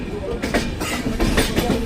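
A train rolls past near Khordha station in Odisha, its wheels beating out a loud, rhythmic clatter over the rails in repeated bursts, with voices faintly present.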